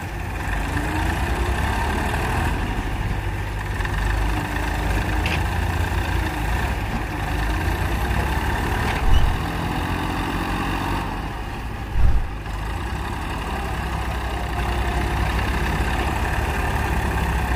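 A Massey Ferguson 241 tractor stuck in a loaded trolley, its engine idling with a steady low rumble throughout, close and continuous, with two brief louder surges partway through.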